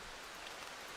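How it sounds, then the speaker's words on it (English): Steady rain falling in the survival horror game Darkwood, a dense even hiss of drops with no voices over it, brief and constant in level. "raining."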